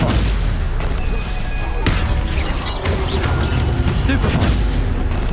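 Loud spell effects from Hogwarts Legacy combat crash and boom in quick succession, including stunning, fire and shield spells, with sharp impacts and bursts layered over a dense, continuous roar of magical energy.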